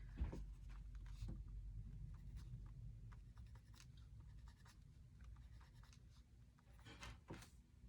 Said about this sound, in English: So I am going to just pencil in her facial features.